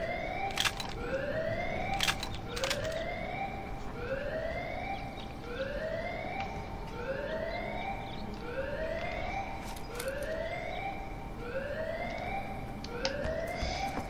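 A wailing alarm siren in the video game IGI 2: Covert Strike rises and falls in steady repeated sweeps, loud and continuous throughout, with occasional sharp clicks and bangs over it.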